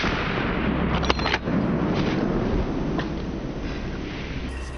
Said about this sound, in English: Bursts of gunfire also echoed one after another